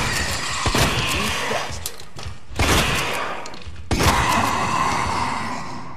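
Shotgun blasts in the video game Resident Evil 2 Remake: three loud, widely spaced booming shots, each with a short decaying tail, over quiet game ambience.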